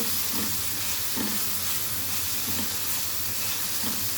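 Tomatoes sizzling steadily in a hot pan, a loud continuous frying hiss with faint soft stirring pulses and no talk.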